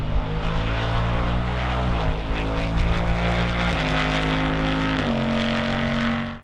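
Ford Mustang Dark Horse V8 engine and exhaust in a loud, steady roar, rising in pitch and shifting up through gears with several stepped changes, close and continuous with no talking.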